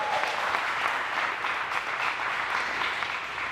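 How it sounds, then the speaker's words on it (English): An audience claps steadily for Mark, the Chief Gearhead of the Dream Giveaway Garage, at the 2015 Challenger Dream Giveaway award ceremony: dense, even applause that holds fairly loud from start to finish. "Let's have a round of applause for Mark."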